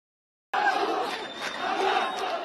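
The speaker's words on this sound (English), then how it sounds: "crowds in Gaza shout slogans against the group and call for an end to the war" A crowd in Gaza chants slogans against Hamas, with dense massed voices that break in abruptly and keep up a loud, sustained roar for about two seconds.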